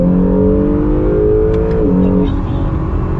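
A modified 2021 Nissan GT-R with an aftermarket exhaust accelerating hard, its engine note loud and close with a steady droning tone that shifts mid-clip as it changes gear.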